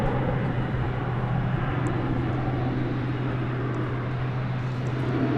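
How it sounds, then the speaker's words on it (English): An Ameriflight plane inbound from Amarillo, Texas, landing at DFW airport at night, heard as a steady distant jet roar with a low droning hum that holds evenly throughout, with no voices. "It's Ameriflight flight number 1721 coming in from Amarillo, Texas."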